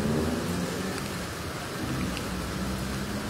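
Steady rain pours outside a children's development centre, a dense unbroken hiss of falling water with a faint low rumble underneath, loud and continuous with no voices.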